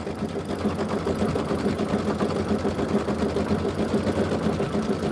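A sewing machine stitches quilt fabric while quilting in a design center, running with a steady, rapid, continuous mechanical whir and needle chatter at close range, with no talking.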